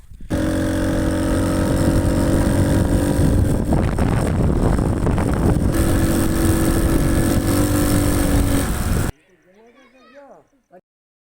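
A motorbike engine drones steadily while riding over desert sand in Tharparkar, loud and close with strong wind buffeting, before cutting to near quiet at the end.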